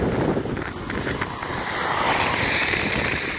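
Strong wind, probably with rain, blows through Zeeuws-Vlaanderen in early December as a steady, loud roar that buffets the microphone throughout, with no talk.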